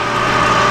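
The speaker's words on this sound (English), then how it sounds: "We'll drill it." A drill bores through a small metal spacer bushing that already carries a starter center mark, giving a steady, loud motor whine that runs unbroken throughout with no voices.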